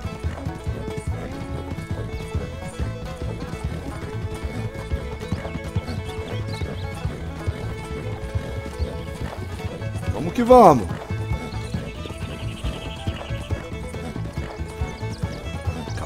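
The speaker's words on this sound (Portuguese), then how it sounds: "O cavalo corre bastante." Rhythmic hoof clip-clop of a horse galloping in Red Dead Redemption, steady and close throughout, with a brief loud rush midway and someone talking over it.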